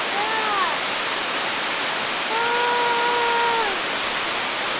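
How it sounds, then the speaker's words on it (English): Keo Waterfall at a campsite roars as a dense, steady wash of rushing water that fills the whole clip, with a voice briefly heard over it. "This is Keo Waterfall."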